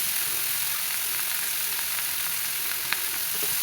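Spices sputter in hot oil as chopped snake gourd goes in for a lentil curry, making a dense, steady, close sizzle with one faint clack near the end.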